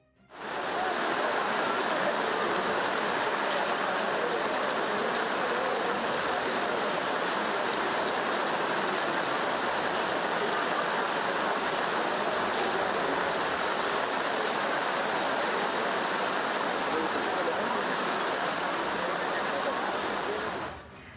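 Heavy monsoon rain falls in Ranni, Pathanamthitta, Kerala, amid flooding, a dense, even hiss of rain and rushing water that holds steady and loud for about twenty seconds, starting and ending abruptly.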